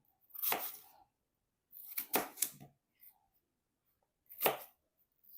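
Vegetables for a green detox smoothie are chopped on a board in three separate bursts of quick knife strikes, close and fairly quiet, with pauses between and no talk.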